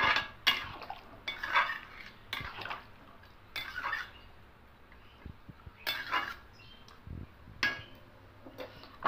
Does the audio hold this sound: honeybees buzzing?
no